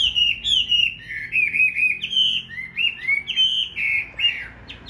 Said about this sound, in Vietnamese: phát hiện ra nó là một con chim hót xòe